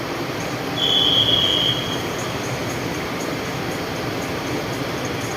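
A Bangkok Red Line electric train bound for Rangsit pulls into a station platform. Its low rolling rumble holds steady, and a thin high brake squeal rises for about a second early on. There is no talking.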